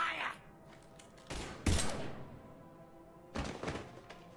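Gunfire in the Mass Effect 3 video game, a few sharp, loud bursts separated by pauses, with faint voices in between.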